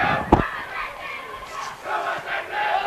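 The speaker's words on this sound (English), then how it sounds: "Getting the cheer club from Schaumburg Saxons. Start hearing them chant." A high school cheer club chanting in the stands at a soccer championship match, a distant crowd chant rising and falling in rhythmic waves, with one sharp shout near the start.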